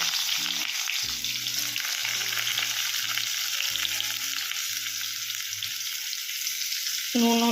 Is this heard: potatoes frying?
yes